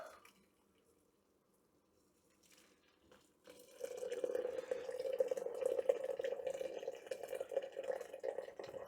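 After a quiet start, boiling water pours steadily into a container for homebrewing beer, a continuous splashing, bubbling flow that rises and holds at moderate volume.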